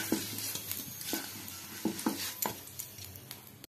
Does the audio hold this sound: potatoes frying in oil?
yes